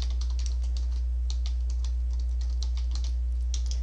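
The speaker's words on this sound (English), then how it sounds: "So that's the keyword I'm going to type in." Someone types a search keyword on a computer keyboard, producing a steady run of close, crisp key clicks in irregular bursts over a constant low hum, with no talking.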